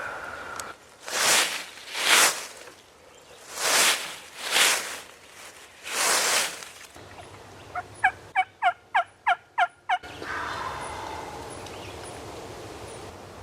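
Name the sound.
wild turkeys gobbling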